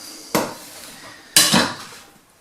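A knife cuts the fatty end off a chicken breast with two sharp, close knocks against a cutting board about a second apart, each fading quickly.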